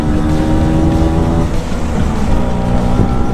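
An old Vespa scooter's small two-stroke engine revs hard and close, a loud buzzing drone with shifting pitch and a brief dip in the middle before it picks up again.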